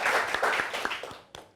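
An audience claps briefly in applause for a guest on a French television programme, a short burst that thins out and fades, with a few last claps.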